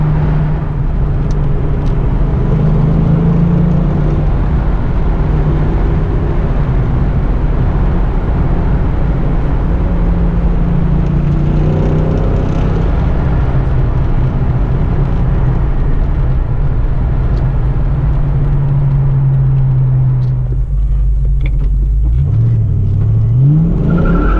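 A 1991 Ford Mustang LX 5.0 convertible with the top up cruises at highway speed, its V8 droning loud and steady, pitch rising with a few throttle changes and a shift near the end, heard from inside the cabin.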